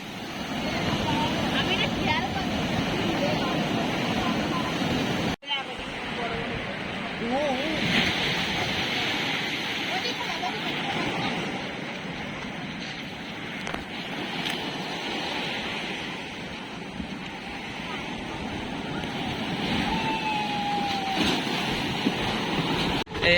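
Ocean waves crash on a beach, a continuous loud roar of surf with a brief cut midway, while people talk and laugh over the water.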